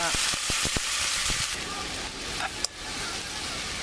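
Cocktail shrimp, garlic and peperoncino sizzle and fry steadily in a pan at a campsite, a constant close hiss with a few clicks early on and a short knock partway through.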